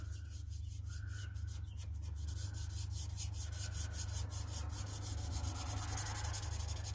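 An alcohol marker is rubbed back and forth over paper to smooth blotchy colour on a card, producing quiet, close, scratchy strokes over a steady low background hum.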